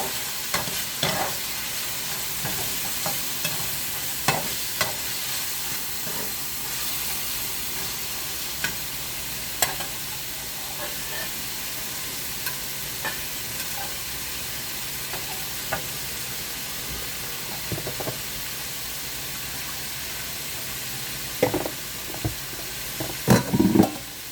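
A pan sautés steadily while fish soup and fried parrot fish are cooked Jamaican style, with a soft constant sizzle and occasional scrapes and taps of a utensil stirring, moderate and close with no talk.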